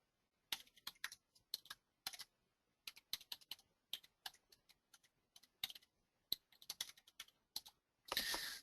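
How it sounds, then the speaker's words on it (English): Rapid bursts of computer keyboard typing while text is entered into a text box, crisp close-up key clicks in uneven clusters with short pauses, ending in a denser burst of clatter, no talking. "I'm going to start typing"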